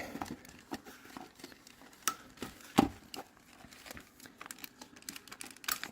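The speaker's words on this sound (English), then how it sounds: "just firmly with a wide grip pull this trim piece away" Plastic interior trim on a Kia Cerato being pried away by hand: soft crinkling and small clicks scatter throughout, with one sharper crack near the middle as the clips release, all fairly quiet and close.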